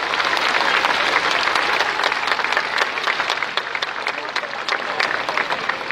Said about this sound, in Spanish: ¡Aplausos a nuestro patrono!